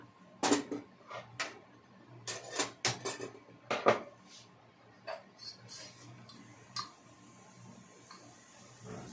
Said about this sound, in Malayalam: ആ ചെറിയ ഉള്ളി നമുക്കൊന്ന് ഇട്ട് കൊടുക്കാം.